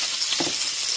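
Sausage frying in a pan, a close and steady crackling sizzle with a brief soft stirring scrape partway through.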